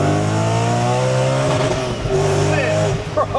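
A supercharged 630 bhp Audi RS4 Avant accelerating hard, loud engine revs climbing through the gears with a brief drop at a shift, heard from inside the car with people talking.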